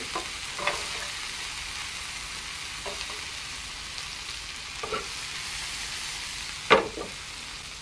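Onions frying in mustard oil with steady close sizzling, broken by a few light scrapes and knocks as they are stirred in the pan.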